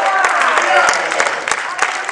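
Church congregation applauding during a Spanish-language service, brisk loud clapping with distinct sharp hits over a voice speaking and calling out.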